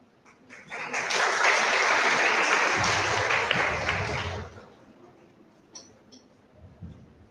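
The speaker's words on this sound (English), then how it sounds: "Let's give a big round of applause" Applause welcoming a speaker at a one-day web development workshop, a loud burst of many hands clapping that swells quickly, holds for about three seconds, then drops off to faint room noise and a few clinks.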